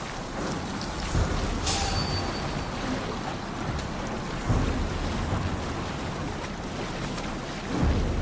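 Sailing ship at sea in the video game Assassin's Creed Valhalla: steady ocean wash and wind roar fill the whole stretch, with a few louder swells surging through, no voices.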